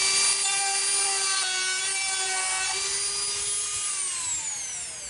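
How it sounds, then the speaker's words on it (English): A Dremel rotary tool widening a hole gives a close, continuous high-pitched whine that holds steady, then winds down in pitch near the end. "So I'm gonna Dremel it out just a little bit, just so I have enough space to punch in that tape."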